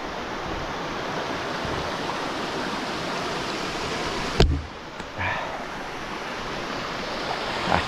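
Flowing water of the Arroyo de la Ventilla stream, a steady, fairly close broadband rush that holds evenly throughout, broken only by a sharp click midway, with no voices.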